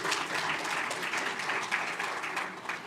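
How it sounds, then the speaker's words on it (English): A seated audience at a national health financing dialogue gives a steady, dense round of applause that holds at an even level throughout, with no voices standing out. "A round of applause for him,"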